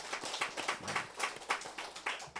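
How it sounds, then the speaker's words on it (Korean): Korean church congregation clapping in a service to honour volunteer accompanists, a brisk, irregular patter of hands, moderately near and fairly quiet, with no talking. "우리 박수 한번 쳐줍시다. 박수 한번."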